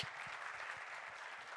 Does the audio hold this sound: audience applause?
yes